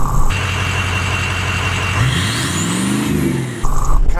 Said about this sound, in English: probably the biggest sound change that I've heard is at the exhaust tip itself. It almost sounds like a jet engine.